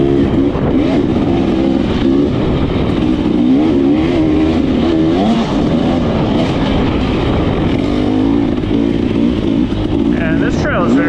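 KTM 300 XC-W dirt bike ridden along a fast trail, its engine loud and close throughout, revving and shifting pitch steadily with wind buffeting.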